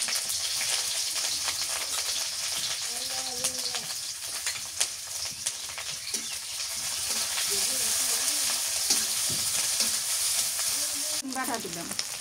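Onions and green chilies fry in a pan over a village-style fire, giving a steady hissing sizzle throughout. Faint voices and brief stirring sounds rise over it now and then.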